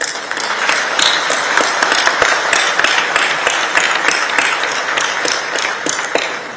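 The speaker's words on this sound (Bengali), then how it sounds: "আমরা সবাই মিলে তাদের জন্য একটা হাততালি দিচ্ছি" An audience at the National Fish Week 2025 opening ceremony gives sustained, dense applause for medal winners, steady and fairly loud throughout with no talk over it.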